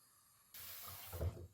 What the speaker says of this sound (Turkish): şimdi pirincimi yıkıyor